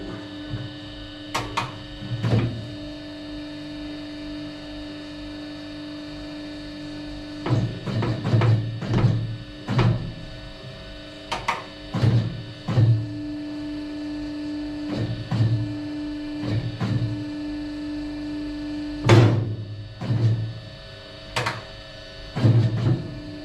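A valve seat cutting machine works on a cylinder head during bronze valve guide and three-angle seat work, a steady mains-like hum under repeated short bursts of cutting and clattering, fairly close.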